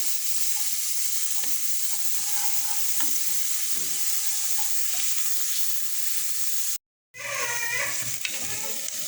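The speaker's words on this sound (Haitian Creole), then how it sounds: "On va ajouter l'ail moyen, m'a quitter l'huile là. Là moi fin frit, OK, on va ajouter l'oignon." Garlic and onion sizzle and crackle in hot oil in a pan, a close steady frying hiss with occasional stirring clinks, interrupted by a brief cut before the sizzling resumes.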